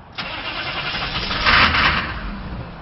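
A Dodge truck engine cranks and catches at close range, settling into a steady, loud running roar that swells briefly before easing back, with no voices over it.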